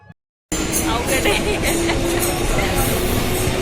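Steady rumble and rattle of a moving, crowded Mumbai suburban local train, loud and continuous after a brief quiet start, with crowd noise blended in.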